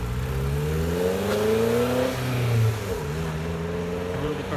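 A Lotus Elise/Exige with a Honda K24 engine revs and pulls away at its first run, the engine note rising and falling through several gear changes, loud and close and then easing as it drives off.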